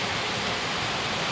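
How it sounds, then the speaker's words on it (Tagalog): Heavy rain falls during an outing in stormy weather, a dense, loud, steady hiss with no breaks and no voices. "Kung ganun kalakas yung ulan yan."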